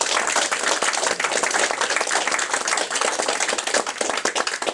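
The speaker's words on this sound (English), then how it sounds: "I want you to give yourselves a round of applause." An audience at the grand opening of the Centre for Men and Families in Ottawa gives a round of applause, a dense, lively burst of many hands clapping continuously throughout.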